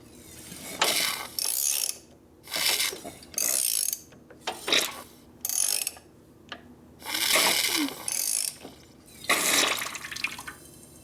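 Repeated bursts of ratcheting and mechanical clatter, roughly ten strokes with short gaps, as a flooded 1965 Harley-Davidson Sportster XLH engine is cranked over by hand with a ratchet.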